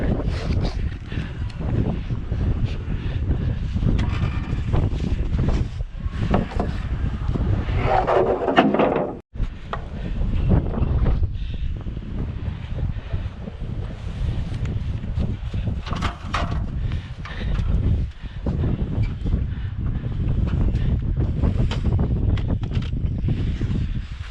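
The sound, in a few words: wind blowing outdoors on a breezy day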